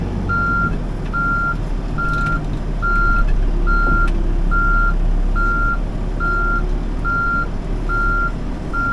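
Backhoe loader working in second gear at part throttle, its steady diesel rumble loud and close under a regular, evenly spaced reversing beep that repeats throughout.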